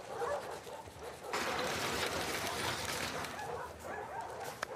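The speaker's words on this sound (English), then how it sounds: "Hey, you crazy dog." A dog in The Last of Us Part II gives faint, soft whimpers and yips within a busy, noisy background; the sound stays quiet and distant.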